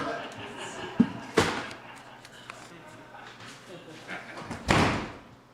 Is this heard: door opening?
yes